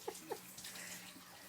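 Water runs steadily from a kitchen sink faucet, a faint, even rushing stream heard close by, with a couple of soft knocks at the start as the tap is turned on.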